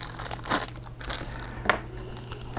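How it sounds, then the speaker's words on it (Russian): A small plastic bag of parts from an ICM 1/35 KamAZ-4320 box-body truck accessory kit crinkles and crackles as it is opened, a few sharp close rustles over a low steady hum. "давайте откроем один пакетик, посмотрим на содержание"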